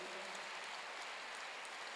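Congregation clapping in a church during a sermon, a dense steady wash of applause held at even loudness for the whole stretch with no voices on top.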